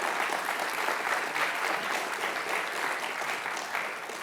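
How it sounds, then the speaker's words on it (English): Conference audience clapping steadily for several seconds, a full room of applause at even loudness without any voices over it. "Let's give the New York Times a round of applause for putting this whole conference together."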